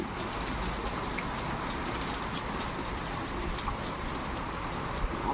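Heavy rain pours down during a windy storm, a dense, steady hiss of drops drumming on surfaces that holds constant throughout with no voices.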